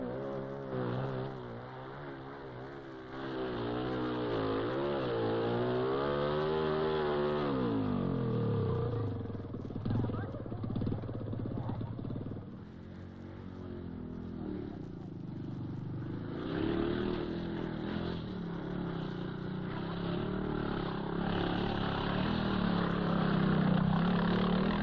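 Sidecar motorcycles race at a 1950s scrambling event on rough ground, their engines revving, rising and falling as they pass at moderate distance on old, muffled film sound.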